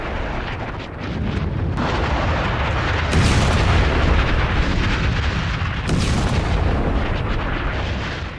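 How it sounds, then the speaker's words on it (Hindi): A massive rolling explosion from a missile strike in Jerusalem roars continuously, with sharp blasts breaking through the heavy rumble, loud and sustained. "देखिए धमाका है। ये बस सुनिए।"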